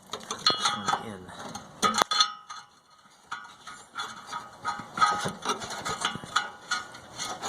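New oxygen sensor being screwed in by hand, with a series of close metallic clicks and ratcheting ticks at an irregular pace and brief pauses, faint low talk underneath.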